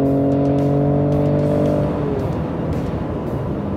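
A 2019 Ford Raptor pickup truck accelerates hard, its engine note climbing in steady, loud rising harmonics for about two seconds before breaking into a rough, roaring rumble as it pulls away.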